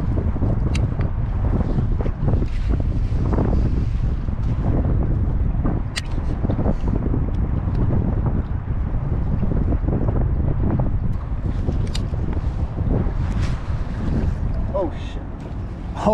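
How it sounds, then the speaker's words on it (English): Strong wind buffeting a microphone on a San Francisco fishing pier, a constant loud roar with gusty rumbling and scattered small clicks and knocks, no clear talking. "the wind's picking up"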